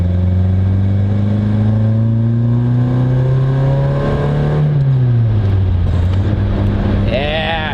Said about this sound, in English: Such a beautiful induction noise.